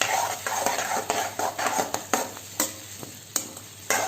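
A utensil stirs and scrapes around a pan of cabbage Manchurian sauce on a low flame with steady clinks and taps, over a soft sizzle, close up.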